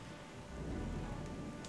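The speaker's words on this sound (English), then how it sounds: "What is up with the constant rain today?" Rain and thunder in The Legend of Zelda: The Wind Waker HD: steady rainfall hisses while a low thunder rumble swells in the middle, with no talk.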